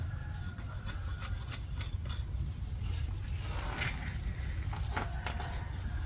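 Someone scrapes bark off a tree branch in repeated rasping strokes, close and moderately loud, over a low background rumble.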